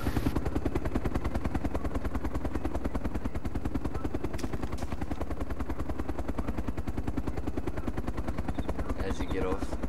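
A helicopter's rotor chops in a fast, steady, unbroken rhythm in the DayZ Epoch Mod video game, loud and close for the whole stretch.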